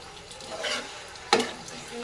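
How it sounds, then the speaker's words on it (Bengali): Cauliflower, potato and egg stir-fried with spices in a pan, giving a soft sizzle with scraping stirs and one sharper clatter of a utensil midway, close and fairly quiet. "এটা ভালো করে মশলার সাথে ফুলকপি আলু ডিমটাকে কষিয়ে নেব।"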